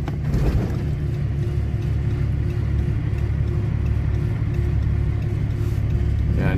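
An old tractor abandoned for years idles with a deep, steady rumble, and a brief throttle bump near the start lifts the engine note before it settles back to an even, loud idle.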